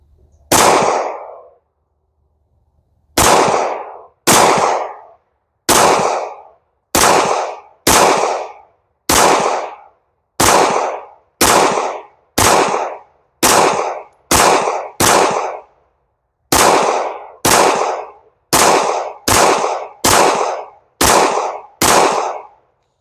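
Pistol shots from a Canik TP9SFX 9mm at target practice: about twenty loud, sharp cracks with short echoes, fired at a steady rhythm of roughly one per second after a single opening shot and a pause.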